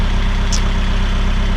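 A tractor engine labors under heavy load while its water-ballasted rear tires spin on wet ground, a loud, steady, close low rumble with a brief higher squeal near the start and no talk.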